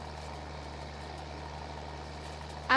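A farm tractor in Farming Simulator 22 idles with a steady low engine drone while pulling a big, heavy rake, its rumble constant and even throughout, with a brief brighter burst at the very end.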